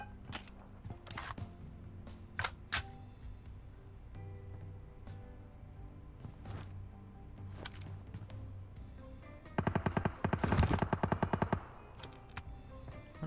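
Gunfire in the mobile battle royale game PUBG Mobile: scattered single shots at first, then a rapid automatic burst of several seconds, fairly faint overall.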